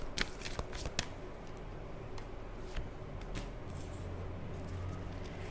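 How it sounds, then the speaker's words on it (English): Oracle cards shuffled by hand before a reading, quick soft riffles and sharp clicks clustered near the start and scattered later over a low steady background hum, close and faint, with no talking. "now I'm going to pull some cards about this"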